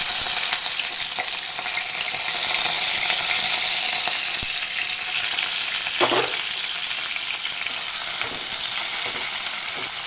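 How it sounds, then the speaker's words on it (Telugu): Chopped onions fry in a pan with a dense, steady sizzle throughout, with a light scrape or clink of stirring midway and no voices over the crackle. "ఇందాక చూపించిన ఆనియన్స్ ఇలా తరుక్కున్నవి ఇందులో వేసేసి ఫ్రై చేసుకుంటే సరిపోతుంది"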